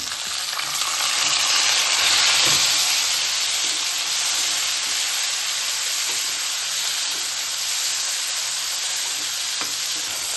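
Tomatoes sizzle loudly in a hot pan, a dense, steady hiss of frying with faint stirring scrapes underneath, close and continuous throughout with no talking.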